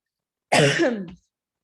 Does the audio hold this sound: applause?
no